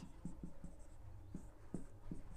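Chalk or marker writing math on a board during a class 12 differentiation lesson, a run of soft quick taps and strokes in an uneven rhythm, faint and close.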